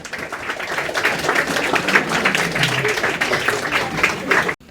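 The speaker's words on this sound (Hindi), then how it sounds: "दोनों के लिए जोरदार ताली मारिए जी।" A class audience applauds two students called up for a Class 10 quiz, a steady, dense wash of clapping held for several seconds before cutting off abruptly.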